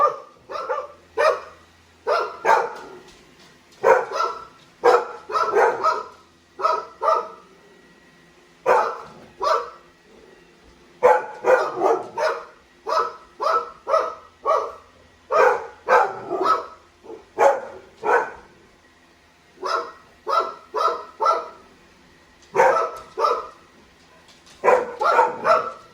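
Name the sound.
dogs barking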